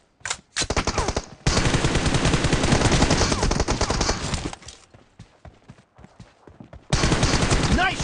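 Bursts of gunfire in PUBG Mobile, loud and close, with a long sustained automatic volley followed by sparse single shots, then another heavy burst at the end.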